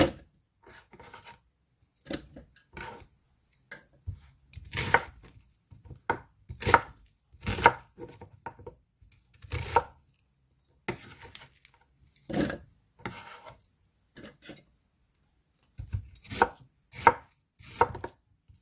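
A knife chops a pear repeatedly on a cutting board in quick, uneven bursts of sharp taps, close up and with no one speaking.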